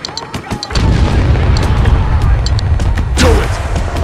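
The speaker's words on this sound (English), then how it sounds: "Loading mortar" Mortar fire in the video game Spec Ops: The Line sets off heavy, booming low rumbles that carry on continuously, with a sharp, louder blast near the end.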